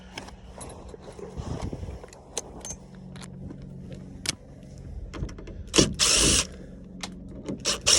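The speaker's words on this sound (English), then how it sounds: "Underneath, we have some Phillips head screws. We're going to loosen those up." Phillips head screws being loosened on the rear door panel of a Hyundai Sonata, with scattered close clicks, metallic rattles and handling knocks, plus a louder burst of scraping near the end.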